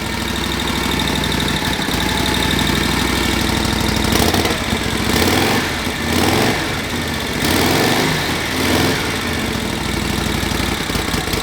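A 1949 Harley-Davidson WL flathead barn-find engine running without its air cleaner, idling loudly nearby with a rough, knocking putter and swelling in a few revs before settling back.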